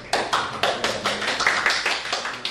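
Audience applause at a school game tournament and game concert, a brisk run of sharp, close claps keeping a quick steady rhythm, loud and without voices.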